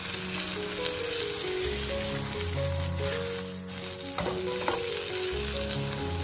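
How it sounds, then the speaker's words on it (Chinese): Sliced green pepper, eggplant and green beans are stir-fried in a wok with a spatula, giving a dense, continuous sizzle broken by scraping tosses of the spatula, loud and close throughout. "将青椒片、茄子、豆角全部倒进来，用锅铲快速的翻动，将茄子和豆角炒散"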